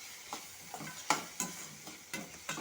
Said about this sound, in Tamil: நம்ம தோட்டத்தில் விளைஞ்ச பாவக்காவை பொடிசாக நறுக்கி அதை போட்டு நல்லா வதக்கணுங்க